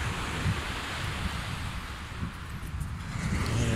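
Strong ocean surf roars steadily throughout at Umbrella Park, Fujairah, a dense wash of breaking waves mixed with wind buffeting the microphone, loud and continuous with no voices.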